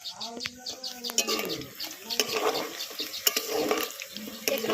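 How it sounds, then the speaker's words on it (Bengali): Chicken pakoras deep-fry in oil until crispy, making a busy bubbling, crackling sizzle. Faint chirps and a background voice sound over it. "এই যে পকোড়াগুলো দেখুন মুচমুচে করে ভেজে নিচ্ছি"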